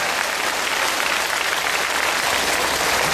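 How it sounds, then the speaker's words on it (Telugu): An audience at a Telugu spiritual meditation talk breaks into sustained clapping, a dense, even roar of many hands that holds steady and loud throughout without speech. "చప్పట్లే చప్పట్లు"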